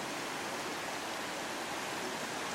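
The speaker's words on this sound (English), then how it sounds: "As the sound of the roaring river passes under the bridge here, we get a little feel for what we got." Flooded creek roaring as it flows under a bridge in Lobo Canyon during heavy rains, a dense, steady broadband rush of water with no pauses and no voices.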